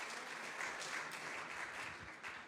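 An audience at a North American mayors' summit against antisemitism in New Orleans breaks into steady, continuous applause with scattered cheers, fairly faint and with no one speaking over it.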